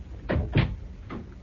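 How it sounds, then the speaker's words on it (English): A door pushed shut in an office scene of a radio mystery drama, heard as two quick wooden thumps close together followed by a softer third knock, short and close. "Ah, Miss Cooper, please come in and close the door"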